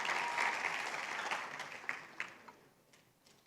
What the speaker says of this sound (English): If you want to clap, clap now.